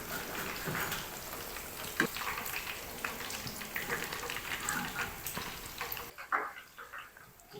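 Pieces of Lahori-style rahu fish sizzle in hot frying oil with a dense, steady crackle and spatter, close and fairly loud, and the sizzle suddenly drops to a quieter hiss near the end.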